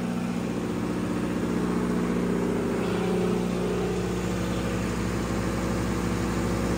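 A 600/347V diesel backup generator at a high school runs under load, giving a steady, loud low drone with a constant mechanical hum that holds unchanged throughout, with no voices.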